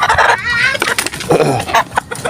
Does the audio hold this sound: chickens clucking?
yes